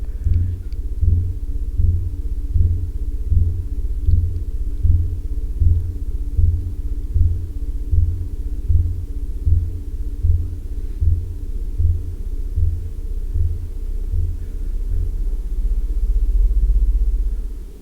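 A blue whale call at its natural speed comes through as a very deep, slow rumble with evenly spaced throbbing pulses repeating for many seconds, then swelling into a longer low drone, with no voices.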